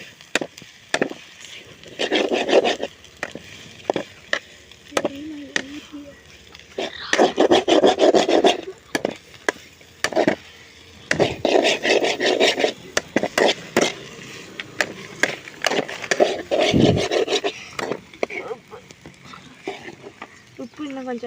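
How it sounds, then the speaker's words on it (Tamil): Food is stirred in a pan while cooking, repeated bursts of scraping and rubbing strokes separated by short pauses, close and fairly loud, with a little talk in places. "இப்போ எல்லாம் கிண்டிட்டுலாம்."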